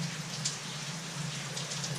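Rain falls over rice fields among mountains in Laos as a soft, steady hiss of drops, faint and even throughout, with no voices.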